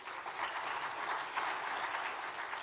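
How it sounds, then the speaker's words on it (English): Applause from a leadership summit audience, steady dense clapping lasting under three seconds at a fairly even moderate level, no speech over it. "Let's give him a round of applause."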